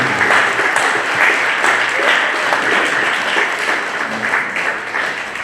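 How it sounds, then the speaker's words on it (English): Continuous applause from a memorial audience fills the space, a dense, steady wash of many hands clapping throughout, loud and close. "please give your round of applause to David."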